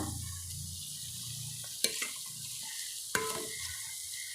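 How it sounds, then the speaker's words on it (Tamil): Curry leaves drop into hot oil for a chickpea channa masala gravy and set off a soft, steady sizzle, with a couple of sharp clinks from stirring utensils and no talking. "இப்போ நம்ம கருவேப்பிலை சேர்த்துடலாம்"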